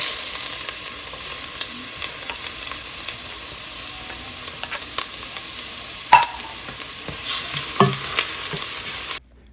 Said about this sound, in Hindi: अब मैं अपनी चिकन तैयार कर रही हूँ।